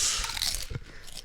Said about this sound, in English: the way I'm eating my chips, sir. You're loud. Crunching my ear.